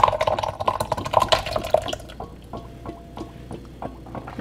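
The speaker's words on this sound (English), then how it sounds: "You can hear it dripping already." Hot ricotta cheese mixture drips and splashes through a colander, a dense wet patter that is loud at first, then thins to scattered close drips.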